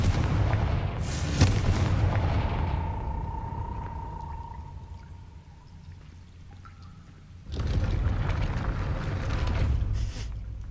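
A Confringo blasting curse in Hogwarts Legacy bursts into a loud, booming explosion aimed at a gate, then a lingering ringing tone and rumble fade out before a second heavy roaring blast swells up.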